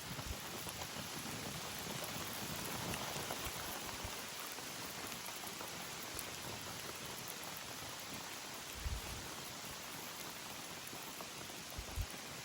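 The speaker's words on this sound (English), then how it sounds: "At the minute we are brolly bound because absolutely chucking it down with rain." Heavy rain pounding on a fishing umbrella at a carp lake, a dense continuous hiss of drops drumming on the canopy with a few louder thuds, steady and close throughout.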